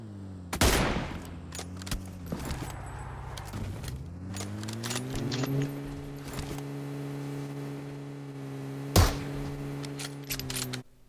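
MK14 rifle fire in PUBG Mobile, a few sharp shots and bursts spread across the clip, one loud crack standing out near the end, with game engine and movement noise running steadily underneath.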